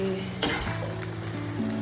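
Stuffed bitter gourds (karela) frying with onions in a pan, a steady close sizzle with a sharp scrape of a spatula just before the halfway point and a faint tonal hum underneath.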